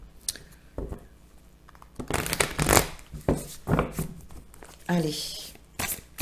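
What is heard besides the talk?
shuffling cards for a card reading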